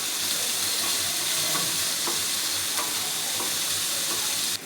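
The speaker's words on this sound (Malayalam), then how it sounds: "ശേഷം ആ ക്യാപ്സിക്കവും ഇട്ടൊന്ന് വഴറ്റുക" Capsicum sautéing in a pan with salt gives a steady, close, loud sizzle and fry hiss throughout, with faint stirring scrapes on top and no talking.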